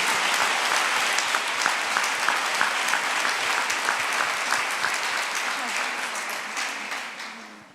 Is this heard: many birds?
no